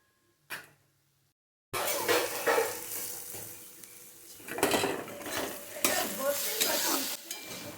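Bottle gourd and shrimp curry stirred in a pan after a pinch of sugar goes in, a single clink, then a loud sizzle with spatula scraping and clattering against the metal for several seconds.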